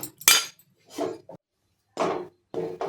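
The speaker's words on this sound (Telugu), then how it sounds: "ఇప్పుడు ఇవి కూడా మిక్సీ జార్లో వేసేసుకుందాం" Several separate clattering thuds as ingredients drop into a mixer jar, in short bursts with quiet gaps between them.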